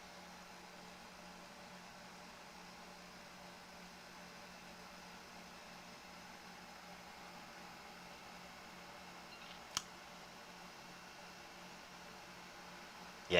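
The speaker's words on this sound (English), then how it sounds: "Can you hear the AC, the air conditioning?" An air conditioner runs indoors on a hot day in Boston, giving a steady, faint broadband hiss and hum that continues unchanged throughout, with one brief click near the end.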